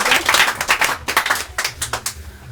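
Audience clapping for a quiz show winner, a small group giving a short burst of fairly close hand claps in an uneven rhythm that continues to the end.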